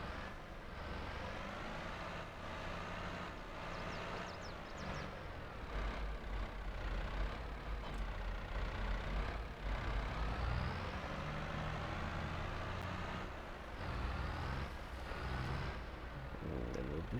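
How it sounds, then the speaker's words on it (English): A farm tractor engine runs steadily at a beef farm, a loud continuous rumble with slight rises and falls in pitch, close by and without talk. "Get back in this tractor."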